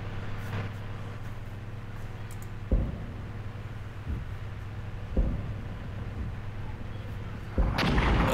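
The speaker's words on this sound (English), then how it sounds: "another artillery strike" Artillery strike in the Armored Brigade war game, Yugoslavian forces on the battlefield: three heavy booming impacts a few seconds apart, rolling out over a constant low engine-like rumble.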